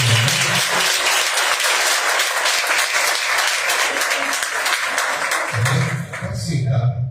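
Church congregation at a family worship service applauding, a dense sustained wash of many hands, fairly loud and steady, with a voice talking over it at the start and again near the end.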